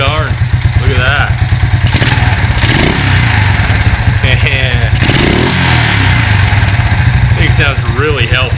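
A Suzuki King Quad four-wheeler engine runs loudly and steadily close by, a continuous chugging idle with slight rises in revs, while people talk over it.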